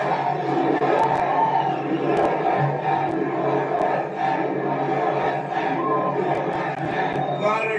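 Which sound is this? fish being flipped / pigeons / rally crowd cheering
rally crowd cheering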